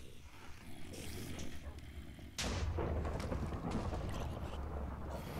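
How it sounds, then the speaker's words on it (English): A heavy cannon fired in a modded video game, heard as one loud boom partway through that turns into a rumbling wash of noise and lasts to the end. "In order to fire the cannon, you have to press spacebar."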